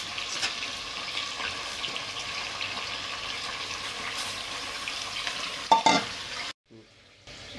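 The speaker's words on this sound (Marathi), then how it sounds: "मी हळद मीठ टाकले, चिकन तेलात घालायला लावले" Chicken fries in oil in a pressure cooker with turmeric and salt, a continuous close sizzle with stirring scrapes and a brief metallic clink, then dropping away to near silence.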